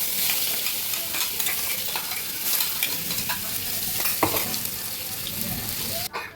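Torn dry chilies, bay leaves and cumin sizzle in hot oil for a jackfruit-seed dal tempering, a continuous near crackle with scattered stirring clicks and a sharp knock near the end.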